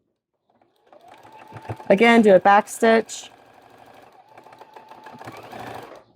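A sewing machine stitches a fabric tube with a quiet, quick mechanical whir in short bursts, a back stitch included, while a person talks over it.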